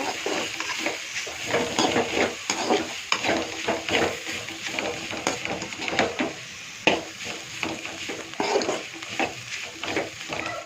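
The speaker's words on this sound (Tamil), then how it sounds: "கொத்தமல்லி தலை போட்டு லைட்டாக வணக்கினா போதுங்க" Coriander leaves being sautéed lightly in a pan for fried rice, an uneven run of stirring scrapes and clacks over a soft sizzle, close and moderately loud.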